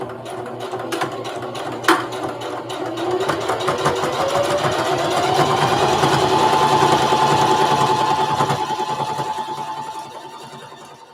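Sewing machine top stitching a second row along a fabric handle for a lunch tote, a close continuous motor whir that builds and holds steady, with a sharp click near the start.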